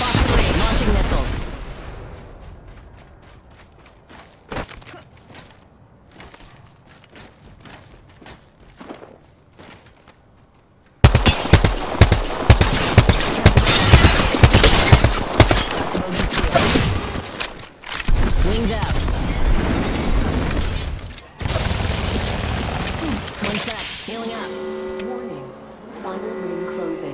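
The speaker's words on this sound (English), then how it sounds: "Fox 3, launching missiles." Valkyrie's missile swarm launching in the Apex Legends battle royale game, a loud dense burst of booming, crackling blasts that fills the second half after a quieter stretch of footsteps and game noise.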